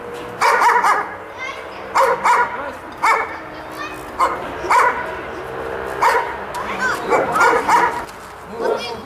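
A sitting dog barks repeatedly in a spring garden, with sharp close yips and barks in uneven bursts and a few whimpering sounds between them.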